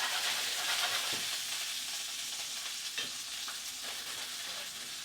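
Steady, loud sizzling of gnocchi frying in a pan over high heat, with occasional soft scraping and tossing sounds under the continuous hiss.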